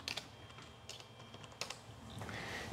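Keystrokes on an MS-DOS computer keyboard typing the LL5 command, a few quick clicks and clacks in short clusters, close and fairly quiet, with steady room hum underneath and no talking.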